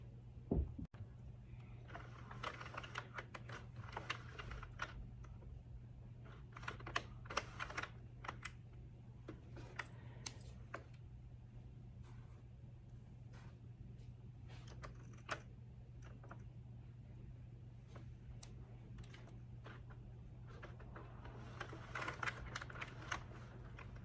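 A Sentro knitting machine cranked by hand, producing a steady run of soft plastic clicks and ticks over a low constant hum, close and continuous for about twenty-four seconds, with no talking.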